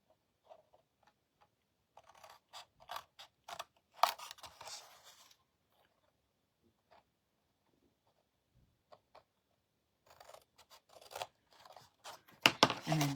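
Scissors snip through card along score lines for a pizza box, a series of crisp, close cutting clicks in short clusters, separated by a quiet gap, then another run of snips with some handling noise.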